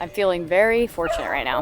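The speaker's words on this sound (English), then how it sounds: "That dog isn't though behind me, if you can hear it barking." A dog yips and barks in short excited bursts in Cape Charles, Virginia, near the Chesapeake Bay, mixed in with a person talking close by.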